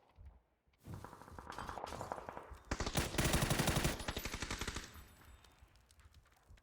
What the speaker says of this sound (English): Oh! Shotgun, not just one, but two.